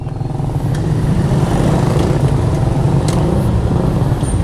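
A motorcycle with a problem that has left it lacking power and with a weak battery runs at a steady, loud idle close by, its rough low chugging continuous throughout with a faint rattle and no speech.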